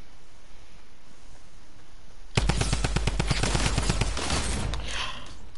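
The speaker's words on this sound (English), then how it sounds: "The drum gun is weak from that range, bro." A drum gun fires in Fortnite. After two seconds of quiet, a rapid, loud burst of automatic shots rattles off for about two and a half seconds, then trails into echo.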